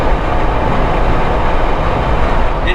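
A 4-cylinder Jeep Sahara engine strains hard under acceleration, giving a loud, steady, broadband roar with a diesel-like clatter that runs unbroken throughout.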